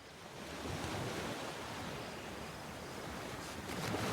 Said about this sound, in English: How many snot-noses have held me up against their dirty little ears, only to claim they can hear the ocean?